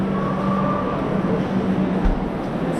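Train sounds at Chennai Egmore railway station in India, a steady low rumble of rolling stock with a faint hum, and a brief thump near the end.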